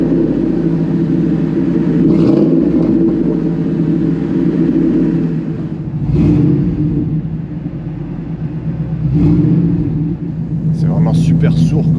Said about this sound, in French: quand tu accélères, t'entends cette courroie qui tourne, ce petit compresseur